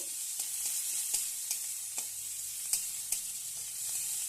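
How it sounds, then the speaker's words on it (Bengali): Diced onions and chopped green chillies frying in oil, a soft steady sizzle with occasional light clicks of a stirring spoon, fairly quiet and unaccompanied by speech. "তো পেঁয়াজটা ভালোভাবে ভেজে নিচ্ছি"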